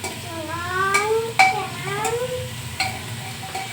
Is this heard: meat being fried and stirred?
yes